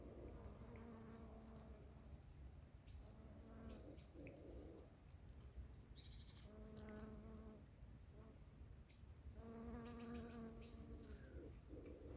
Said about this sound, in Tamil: இந்த மரத்தில் நிறைய தேனீக்கள் இருக்குது.